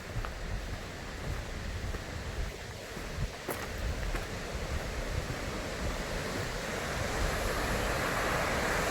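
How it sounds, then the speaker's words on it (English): Miners Falls at Pictured Rocks, Michigan, running high, heard as a steady, dense roar of rushing water with faint wind buffeting, continuous and unbroken, with no talking. "There they are, Miners Falls. Really flowing today."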